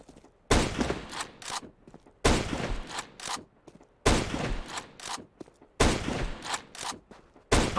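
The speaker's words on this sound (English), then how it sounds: "You jump, shoot, and try to hit a target." Scout sniper rifle shots in CS:GO, four loud, sharp reports spaced evenly about every second and a half, each followed by short clicking bolt-action cycling sounds.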